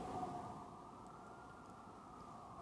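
Distant sirens in Seoul wail faintly and steadily for the whole stretch, a thin sustained tone over low city rumble, with no talking.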